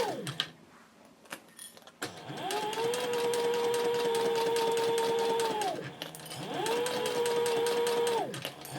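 A sewing machine stitches a handbag slowly, running in two long, steady bursts with a short pause between them, close and clear.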